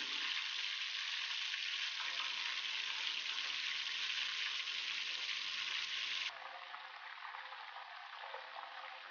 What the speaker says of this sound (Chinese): 温五成热下丸子，丸子比较大，全程小火慢炸，防止炸糊了。